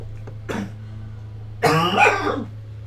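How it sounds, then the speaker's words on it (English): A person coughs twice, a brief light cough followed by a louder, harsher burst, close to the microphone over a steady low hum. "Oh, the coughing is catching up with me."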